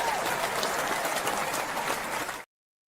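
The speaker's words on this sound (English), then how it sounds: "And where is my applause?" Dense applause from a crowd, a continuous even wash of clapping at steady loudness that stops abruptly after about two and a half seconds, followed by silence.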